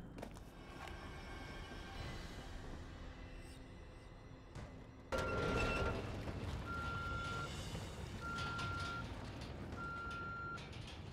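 Repeated electronic beeping in The Evil Within horror game, four short even-pitched tones spaced about a second apart over a dense rumbling ambient backdrop that rises sharply midway.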